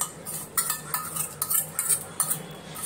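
A spoon stirs a spinach and semolina mixture in a bowl, giving close, rhythmic scraping and clinking strokes that repeat several times with no talk.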